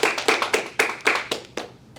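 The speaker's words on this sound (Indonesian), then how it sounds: "Tepuk tangan untuk kita semua." A small class of microteaching participants claps their hands in about nine distinct, fairly close claps at an uneven rhythm, with no talk over them.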